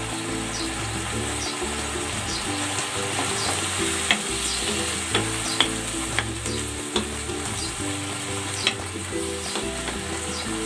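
Pechay stems sautéing with pepper in a hot pan, a steady close sizzle with occasional spatula scrapes and taps as the vegetables are stirred, no talking.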